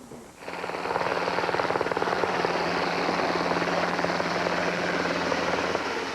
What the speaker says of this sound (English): The choppers represent state-of-the-art technology.